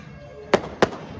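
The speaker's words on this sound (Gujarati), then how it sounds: "ફટાકડા ફૂટે છે પાછળ" Firecrackers and fireworks burst at dusk during the Uttarayan kite festival in Surat, India: two sharp, fairly close bangs about a third of a second apart over a quiet background.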